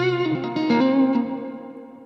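An electric guitar rings through an amp with a Replex delay effect, one sustained chord blooming with echo repeats and slowly decaying over about two seconds.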